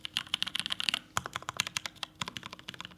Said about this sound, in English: So here's the regular keys.